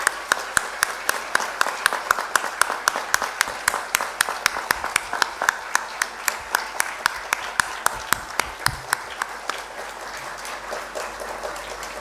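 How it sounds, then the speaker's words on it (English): A graduation audience claps in a loose, rhythmic unison of sharp claps that keeps a steady beat for about ten seconds before it thins out. "give them the biggest round of applause ever."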